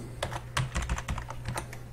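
Quick, uneven clicking of keys on a French-layout computer keyboard, close and fairly quiet, in short bursts of taps with no talking.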